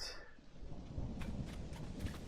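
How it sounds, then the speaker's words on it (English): In Zelda: Tears of the Kingdom, a thunderstorm rolls in with a low rumble of thunder over steady, soft rainfall, with crackling bursts that hint at electricity, all fairly faint. "Here comes the rain."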